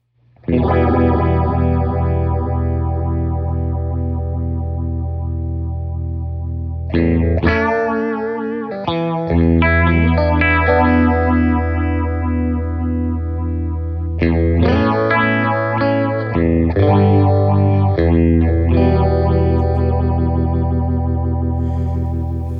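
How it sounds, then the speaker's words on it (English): Electric guitar run through a Fender Lost Highway Phaser effects pedal, sustained chords and riffs swirling with sweeping phase, chorus-like shimmer and distortion, loud and continuous with short breaks between phrases, no voices. "So that's just a few of the sounds from the Lost Highway Phaser."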